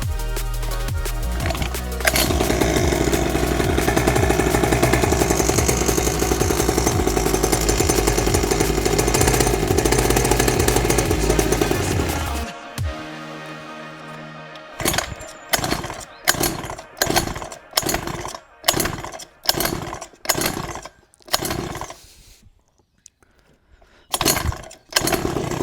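A 49cc kids' mini dirt bike engine fitted with a race clutch starts and runs with a loud, rough buzzing idle, then drops away and is followed by a series of sharp revving bursts separated by short gaps.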